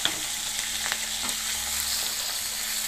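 Green chillies crackle in hot oil with mustard seeds and urad dal, a dense, even sizzle with a few small pops, close and continuous, with no talk.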